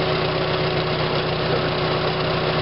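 A tractor engine idles steadily nearby, a continuous mid-to-low mechanical drone with a faint knocking texture and even vibration, alone without talk.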